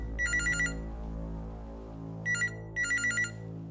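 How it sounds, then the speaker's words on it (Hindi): Telephone ringing in a Hindi crime drama: an electronic trill repeating in short bursts over a low hum, close and clear, with no talk. "सुल्तान का फोन"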